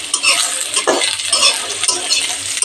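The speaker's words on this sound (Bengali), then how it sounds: "নেড়ে দিলাম।" Boiled cauliflower being stirred in a pan for a paneer curry, with close scraping and shuffling strokes over a faint sizzle.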